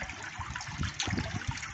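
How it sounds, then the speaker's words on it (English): Water trickling and splashing from a DIY pond filter shower outdoors, a soft continuous patter with small irregular splashes, close and fairly quiet, no voices. "it's not a torrent of water, it's more like a trickling shower to me"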